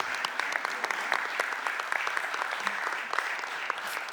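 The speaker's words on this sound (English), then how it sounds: "Can we give him a round of applause" Steady, dense applause from a gathered audience at a school board budget hearing honoring a deputy superintendent, continuous clapping at even volume throughout.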